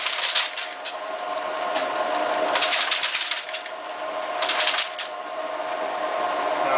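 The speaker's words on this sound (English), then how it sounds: "So we're going to drop an M again. So it went up, and tripped the letter. They dropped into an elevator here." A Linotype typesetting machine drops a brass matrix letter, bursts of light metallic clicking and clinking over a steady mechanical whir, close and fairly loud, no speech.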